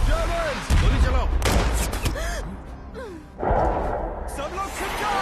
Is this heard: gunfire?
yes